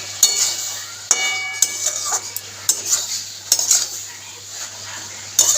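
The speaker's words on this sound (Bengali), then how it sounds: "মাঝে মাঝে কিছু নাড়িয়ে দিতেই হবে। নাড়িয়ে দেবো।" Utensil stirring vegetables in a cooking pan for a shrimp and drumstick-leaf stem dish, with sharp metallic scrapes and clinks recurring irregularly, fairly close and alone without talk.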